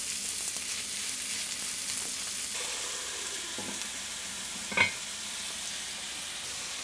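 Chopped steak for a Philly cheesesteak fries in clarified butter in a pan, with a steady close hiss and crackle throughout and one brief tap of a utensil near the end.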